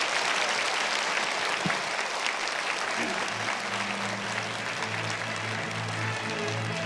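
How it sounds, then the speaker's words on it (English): A large audience at an international women's peace conference applauds a chairman's speech in a dense, sustained round of clapping, with low musical tones rising in underneath partway through. "Let's give Chairman Man-hee Lee once again another big round of applause for his compassionate speech."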